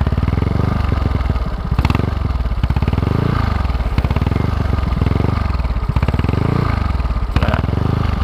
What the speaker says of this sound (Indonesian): Dan ini untuk suara knalpotnya.